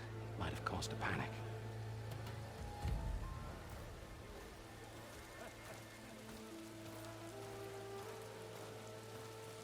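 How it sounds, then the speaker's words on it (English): Rain falls in the video game Horizon Forbidden West as a faint, steady hiss, with a few brief louder sounds early on and low tones sustained beneath. "It's only raining over there."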